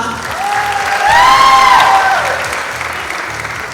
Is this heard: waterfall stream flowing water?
no